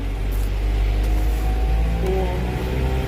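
A vehicle's engine drones low and steady as it labors up a steep, winding mountain road near Bedugul in Bali in a low gear, a constant rumbling hum at close range with slight shifts in pitch.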